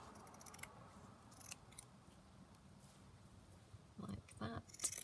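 Scissors cut around a printed fabric piece for vintage postage stamp appliqués, giving faint close snips that come in short clusters near the start and again toward the end.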